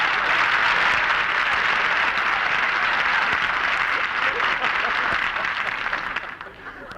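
Studio audience applause for an arriving guest on a sitcom set, a dense steady wash of clapping that fills the clip and fades slightly near the end, with voices mixed in.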